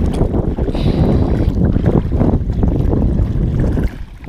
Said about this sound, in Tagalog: Eh kaso malakas yung hangin.